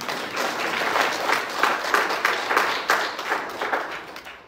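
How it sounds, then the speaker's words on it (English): A church congregation applauding in praise, a steady wash of many hands clapping together, fairly loud and close, holding for several seconds before starting to fade at the end. "put your hands together and give our God a hand of praise"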